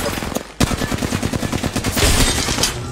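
Gunfire in the Apex Legends video game, rapid automatic bursts with closely spaced shots, loud and close.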